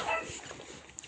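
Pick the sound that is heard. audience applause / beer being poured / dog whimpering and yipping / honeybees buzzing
dog whimpering and yipping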